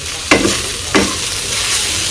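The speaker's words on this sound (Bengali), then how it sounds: "এই যে থোর তো ভাজি করতে দিয়েছিলাম, থোর ভাজি করা হয়ে গেছে" Banana stem (thor) frying and being stirred in a pan, close by: a steady low sizzle with three sharp scraping strokes of the spatula at roughly even intervals, no voices.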